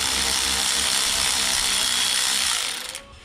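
A power tool whirs steadily while driving bolts with a 12 mm socket on a 2002 Yamaha outboard jet, a loud close buzz that winds down and stops near the end.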